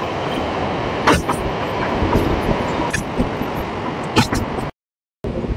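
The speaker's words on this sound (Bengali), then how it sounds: "হাওড়া থেকে 5টা 15 ট্রেন ছেড়ে আমাদের ট্রেন আজকে কোলাঘাট স্টেশন এসে পৌঁছালাম" A local train from Howrah rumbles into Kolaghat station, a loud steady rolling noise with sharp metallic clanks and squeals, then a brief cutout of silence near the end.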